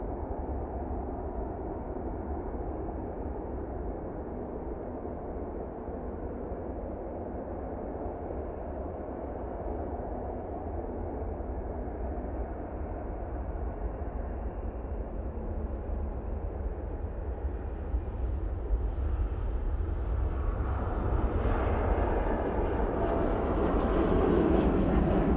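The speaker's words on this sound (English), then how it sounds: "Gulf Air 787-9 Dreamliner now on the roll." A Gulf Air Boeing 787-9 Dreamliner on its takeoff roll at Manchester Airport, bound for Bahrain, gives a steady broadband engine roar that swells louder over the last few seconds.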